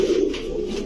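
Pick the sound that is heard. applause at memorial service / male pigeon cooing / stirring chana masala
male pigeon cooing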